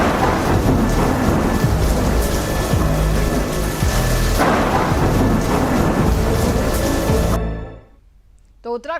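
Heavy monsoon rain and thunder in Uttarakhand, a loud dense roar of downpour with rumbling thunder that cuts off abruptly near the end into brief quiet.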